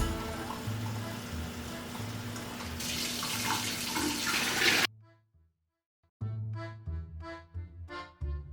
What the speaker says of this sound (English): I'll add water to the big pot so we can start boiling the water